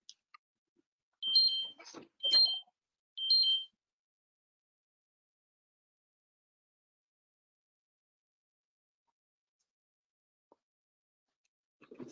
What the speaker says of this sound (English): while I fix this alarm